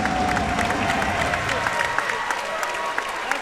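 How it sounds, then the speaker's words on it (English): Crowd at a cage fighting event applauding and cheering, a steady mass of clapping with scattered louder claps, fairly loud and heard without talk. "So a big round of applause to anybody that has the testicular fortitude to step inside"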